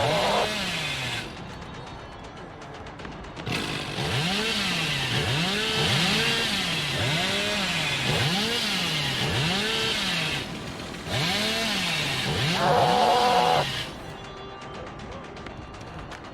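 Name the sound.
Hillbilly's chainsaw running in a video game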